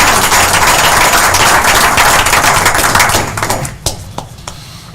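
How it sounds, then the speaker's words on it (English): A hearty round of applause at a city board of aldermen meeting in Starkville for a drinking water division employee; loud, dense clapping that thins into scattered claps and dies out. "Please give a big round of applause to Theodis and all of"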